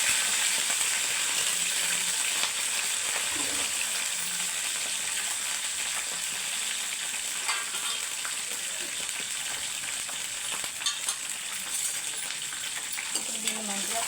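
Curry leaves, green chillies and a bay leaf fry in hot oil for egg menthulu curry, a continuous close sizzle with occasional stirring, steady throughout with no voice.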